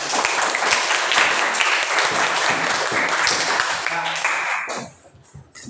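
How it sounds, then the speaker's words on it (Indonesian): Classroom applause from students, a dense, steady patter of many hands clapping for about four and a half seconds before quickly tapering off to near silence. "mari kita berikan tepuk tangan"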